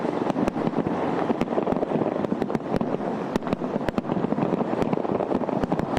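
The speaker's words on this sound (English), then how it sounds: "there was still plenty of spectacle, including a 35-minute fireworks display as part of a salute to America" Fireworks at a 35-minute Salute to America display in Washington, D.C. give sharp, irregular cracks and bangs over a constant loud rumble of blasts and crowd-like noise, with no speech.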